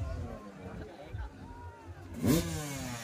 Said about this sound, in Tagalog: Laki ng motor niya, oh.